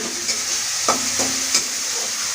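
Fish sizzles steadily in a hot pan of oil in a home kitchen, a close, constant hiss with a few soft knocks of a utensil against the pan.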